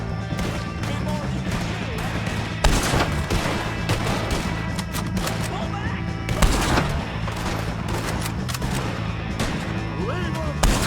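Dense gunfire from the Western video game Red Dead Redemption 2 runs throughout, with rapid rifle and pistol shots and sharper louder bursts, while voices talk over the continuous shooting.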